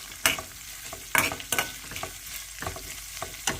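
Red capsicum with garlic and ginger is sautéed in a pan: a soft sizzle under a series of sharp spatula scrapes and stirs recurring every half second or so, with no voices.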